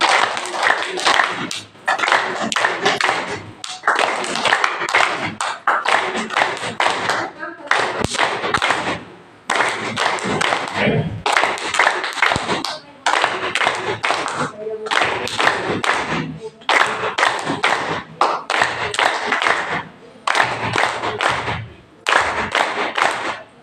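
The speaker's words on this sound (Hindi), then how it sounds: "तो पहले मेरे साथ 3 ताली से दीदी का सम्मान करेंगे" Audience clapping at a spiritual gathering in honour of a sister's birthday, sustained bursts of loud group applause repeating with short pauses between rounds, filling the room.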